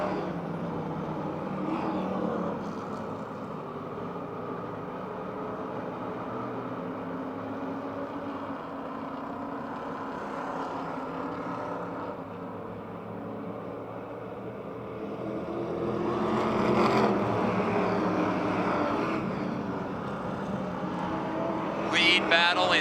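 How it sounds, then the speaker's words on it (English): Ford Thunderbird and Chevrolet Monte Carlo stock cars race wheel to wheel at a speedway, their engines roaring on and off and swelling as the cars pass, with an announcer talking over the noise. "Lead battle in turn number 2, Ford versus Chevrolet."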